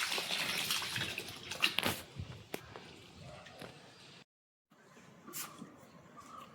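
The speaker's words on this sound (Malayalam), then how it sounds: "ഗൈസ്, നമ്മൾ പുതിയ ഓസ് പൊട്ടിച്ച് പുതിയ ഓസിനകത്ത് നിന്നാണ്ട് വെള്ളം വന്നുണ്ട്" Water from a new garden hose pours into an inflatable pool, a faint splashing gurgle with small drips and squishy handling noises, briefly cutting out before resuming quietly.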